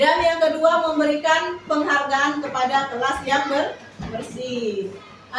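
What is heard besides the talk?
None of the usual background noises is heard.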